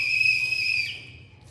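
A dog-training whistle gives one sharp, steady high-pitched blast lasting nearly a second, close and clear, before cutting off into quiet.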